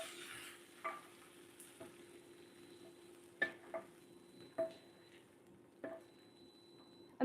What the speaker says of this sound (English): Then I'm gonna add the minced beef in.